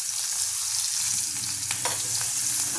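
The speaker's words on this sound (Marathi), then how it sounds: "आता आपण हा कांदा यामध्ये घालून घेणार आहोत" Onion frying in oil with asafoetida and turmeric in a pan, a steady dense sizzle with a few sharper crackles, close and continuous with no talk.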